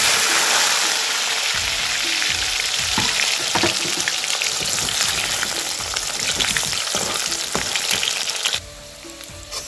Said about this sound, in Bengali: দেখো আলু ভাজাটা হয়ে গেছে